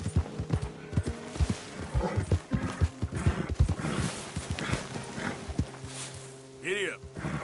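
A horse galloping in the video game Red Dead Redemption 2, with loud, close, rhythmic hoofbeats pounding along and a snort or whinny near the end, while voices talk over parts of the run.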